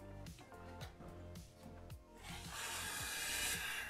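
Plaster filler scraped across a wall with a knife blade, a repeated rasping rub in uneven strokes that builds into a steadier, brighter scraping toward the end, close to the listener with no talk.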